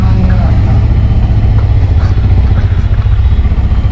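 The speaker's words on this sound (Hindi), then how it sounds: "तो आप यहाँ पे एग्जॉस्ट नोट सुन सकते हैं।" A Yamaha R15M motorcycle idles up close, its exhaust note a loud, steady low rumble with a fast, even pulsing throb that holds for the whole stretch.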